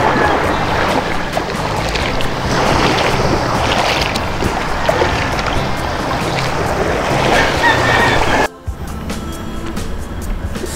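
A Filipino fishing boat (bangka) heads out on the open sea, its steady engine drone and wash of water running loud and continuous before a brief cutout near the end.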